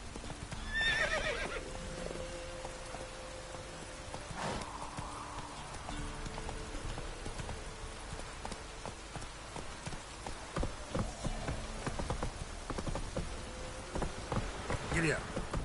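Horse hooves clip-clop steadily with a whinny near the start, set in The Witcher 3 video game, with faint patter like rain or insects underneath and no speech.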